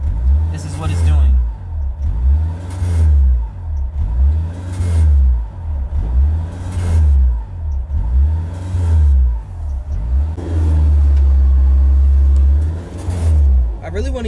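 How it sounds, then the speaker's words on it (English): A flooded Honda S2000 engine idles erratically, its revs surging and falling in a regular rhythm about every one and a half seconds, loud and close, with one longer held rev near the end. "And this thing is still idling crazy."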